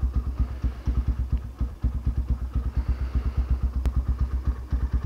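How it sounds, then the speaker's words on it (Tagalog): A motorcycle engine idles while warming up at night, its steady pulsing exhaust beats close and even, with a light mechanical clatter on top and no talking. "Painitin muna natin yung motor ng mga ilang minuto"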